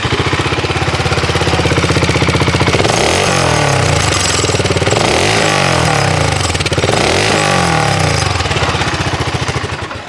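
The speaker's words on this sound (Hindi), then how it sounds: "अब आपको मैं एक बार BSA का एग्जॉस्ट दिखा देता हूँ।" A BSA Goldstar 650 single-cylinder motorcycle runs with a loud, thumping exhaust that rises and falls in repeated revs, steady and close, with no talk over it.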